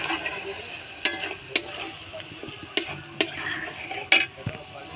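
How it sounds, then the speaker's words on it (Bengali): A spice paste of ginger and green chili stir-fries in hot oil in a pan for vegetarian ghugni, giving a steady sizzle broken by sharp scraping and clinking strokes of a spatula against the pan at irregular intervals. "তো আমি মশলাটা ভালো করে কষে নেব।"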